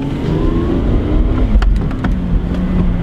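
A car launches off the line through a parking lot with a slight lean into the throttle, the engine rumbling loud and close as it pulls away, a brief rising hum over steady low drone.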